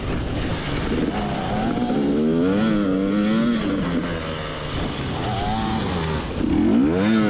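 A KTM 250 EXC TBI dirt bike is ridden ahead of the recorder, its engine revving up and down in wavering, repeated surges of throttle with no talking.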